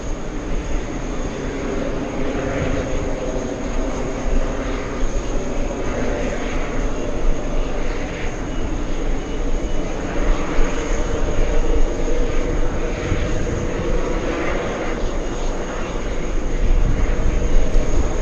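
Jet airliners departing JFK Airport in New York roar steadily throughout, a continuous broadband rumble that holds at a loud, even level with no break.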